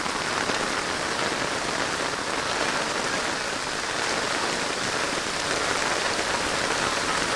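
Steady, dense rain pours down on surfaces in Bainda, a continuous full hiss without pauses or voices that holds evenly for the whole stretch.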